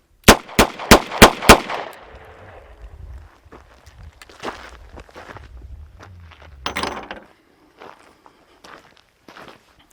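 Five sharp, loud revolver shots from a Smith & Wesson 640 J-frame fired in quick succession at an indoor range, followed by quieter clatter and knocks, with no talking.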